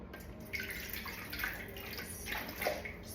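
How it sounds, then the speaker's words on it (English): Water pours from a tap into a bowl set on a kitchen scale, a soft continuous splashing stream with small gurgles and drips, quiet and without speech. "we're gonna put in 300 grams of water"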